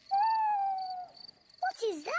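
A cartoon owl hoots at night, one long wavering call that fades out. A second rising and falling vocal follows, sounding like a voice imitating the hoot.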